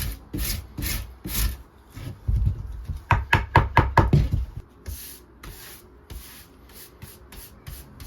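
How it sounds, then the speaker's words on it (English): A wire brush scrubs a charred oak whisky barrel stave in repeated back-and-forth strokes, close and gritty, with a run of sharper rhythmic rasps midway before the scrubbing continues in spaced bursts. "I firstly cleaned up as much as I could with a wire brush"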